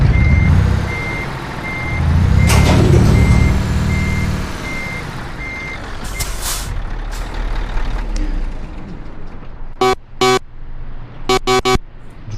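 Truck in Euro Truck Simulator 2: an engine idles and rumbles, air brakes hiss, then sharp electronic reversing beeps sound in pairs and short bursts near the end, loud and close, no talk.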